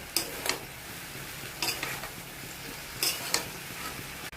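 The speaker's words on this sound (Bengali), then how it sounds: "তো ঢাকনাটা খুলে এখন একটু নাড়িয়ে নেব।" Vegetable curry being stirred in a pan, three short pairs of scraping stirs over a soft, continuous sizzle.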